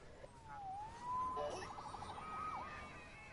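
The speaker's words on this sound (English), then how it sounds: "Saved by the siren." A police siren wails faintly in the distance, rising and falling with a quick yelping stretch, muffled under a low background hum.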